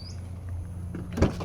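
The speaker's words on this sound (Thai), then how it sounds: "เดี๋ยวเราเปิดประตูท้ายกันหน่อยนะครับ" The tailgate of a 2012 Nissan March opens with a soft click and a thump near the end, against a steady low idle-like hum.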